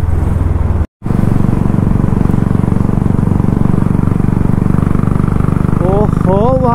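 A motorcycle riding through city streets, its engine a loud, steady drone with a brief dropout near the start, and a voice speaking over it at the end.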